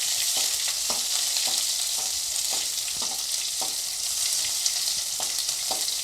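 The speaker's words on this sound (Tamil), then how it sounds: "அதுக்கப்புறம் வெங்காயம் கொஞ்சமாக போட்டு வதக்கினா போதும்" Onions and curry leaves sautéing in a hot pan for a beach-style pea sundal snack, a steady close sizzle with repeated soft scraping strokes of a stirring spoon.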